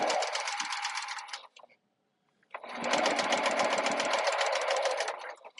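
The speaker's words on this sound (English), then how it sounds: "I sew down until I get to 1/4 inch away from this bottom corner." A sewing machine stitches a fabric pouch in two rapid bursts of dense, even needle chatter, close by, separated by a short quiet pause.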